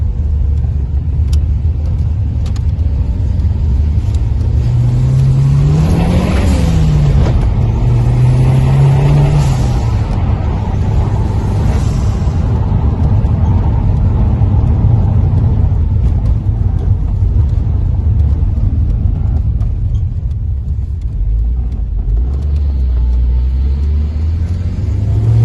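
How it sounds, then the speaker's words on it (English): A turbocharged Escort Cosworth replica drives on the road under boost, heard from inside: a loud, continuous engine drone that rises and falls through gears over heavy road rumble, with no talking. "so that was the first outing in the car with it running boost"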